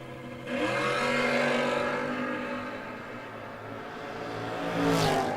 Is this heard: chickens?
no